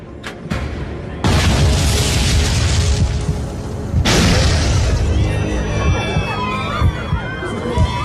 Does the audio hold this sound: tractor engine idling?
no